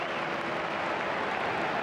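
Football stadium crowd at an Arsenal versus Manchester United match in 1997/98 applauding Nicolas Anelka, a steady broad wash of clapping and crowd noise filling the whole moment at even loudness.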